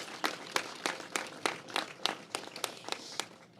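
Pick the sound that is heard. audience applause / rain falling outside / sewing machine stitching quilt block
audience applause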